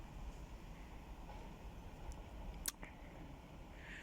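Chiltern Railways train at Gerrards Cross station on the Chiltern Main Line, heard as a steady low rumble with a few sharp clicks and ticks of the wheels and carriages passing.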